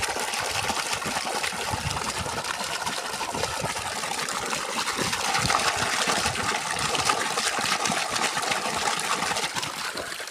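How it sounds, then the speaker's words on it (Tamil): A 7.5 HP solar-powered pump with a 2-inch delivery pipe pushes water up from 750 feet, giving a steady, continuous gush and splash close by under cloudy skies, with a faint motor hum beneath. "மோட்டார் பார்த்தீங்கன்னா 750 அடி பம்ப் பண்ணிக்கிட்டு இருக்கு."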